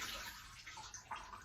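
Water gushing and splashing steadily from a hose removed from a sailboat's main water tank, a brief continuous rushing flow with slight gurgles.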